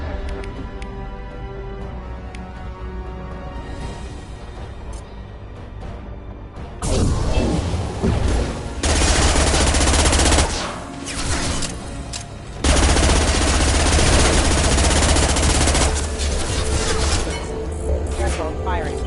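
Bursts of weapon fire during a Mass Effect Legendary Edition firefight: a quieter spell of combat gives way to loud, sustained volleys of rapid gunfire, broken by a short pause, then another heavy stretch, with speech passing through.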